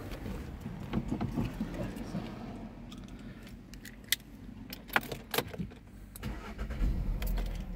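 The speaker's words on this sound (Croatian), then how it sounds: "Sada ćemo startati vozilo." A Seat Leon 1.4 TSI FR with Start&Stop starting up, keys jangling and clicking in the cabin before the engine cranks and catches into a low, steady idle near the end.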